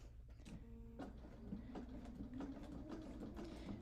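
Sewing machine with a double needle stitching fabric for a wall hanging, a quiet close mechanical whirring and clicking that is fed slowly, with uneven taps, and no talk over it.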